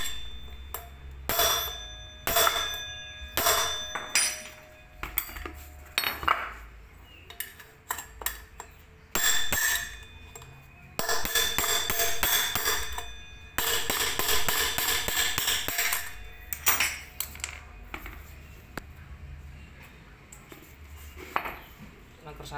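A hammer drives out a bearing on a Honda Beat scooter, producing many sharp metallic strikes, some in fast rapid runs and others spaced apart, ringing close and loud with brief pauses.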